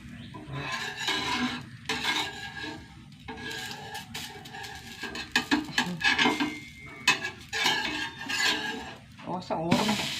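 Dosa batter cooks on a hot iron griddle, its sizzle broken up by rough scraping and rubbing bursts of utensil against metal, loud and close, with faint speech at moments.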